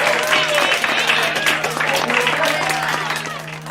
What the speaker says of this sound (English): And then they're just clapping like, oh yeah, no, everything's all great.